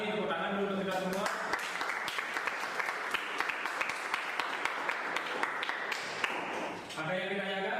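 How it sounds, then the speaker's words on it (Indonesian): A classroom group applauds after a presentation, a burst of dense clapping from a small audience lasting several seconds, with a teacher's voice heard before and after. "tepuk tangan dulu untuk kita semua"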